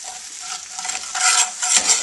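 A dark roux for Cajun chicken and sausage gumbo being stirred in a pot over lowered heat, giving a steady, close scraping and soft sizzle that swells slightly toward the end, with no talking.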